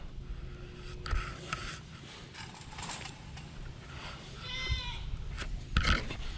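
A goat bleats a couple of times in a garden, the calls fairly close and standing out over a steady outdoor background with light rustling and handling noise.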